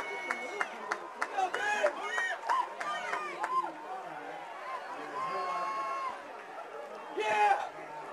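Spectators at high school boys' and girls' track and field finals cheer runners as they pass, with scattered shouts, whoops and a few claps rising and falling over general crowd chatter.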